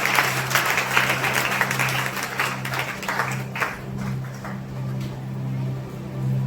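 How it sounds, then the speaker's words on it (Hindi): A church congregation claps and applauds loudly for several seconds, and the clapping gradually fades toward the end. "जोरदार ताली बजा के तारीफ करें।"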